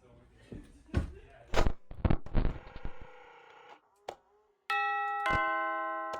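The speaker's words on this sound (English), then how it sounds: "someone's at the doorbell" Doorbell chime in the video game Five Nights at Brian's, a loud electronic ding-dong ringing twice near the end, following a stretch of clattering knocks and footstep-like thuds.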